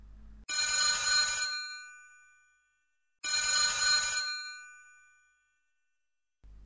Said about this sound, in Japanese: しかし岩瀬氏が受話器を取る前に電話が鳴った。